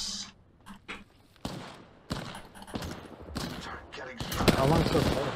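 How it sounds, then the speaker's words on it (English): Bursts of Spitfire light machine gun fire in the Apex Legends battle royale shooter, a few short broken volleys early, then a denser, louder sustained stretch of rapid shots near the end. "I hate to waste all my Spitfire shots though."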